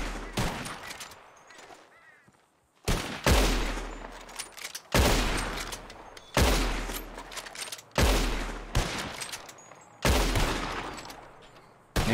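Repeated gunshots from Red Dead Redemption 2 as players fire at flying birds: six or seven sharp, loud reports spaced a second or two apart, each decaying with a long echoing tail, with no talking in between.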